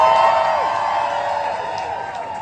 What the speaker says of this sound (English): can you please give everybody that played here tonight a massive,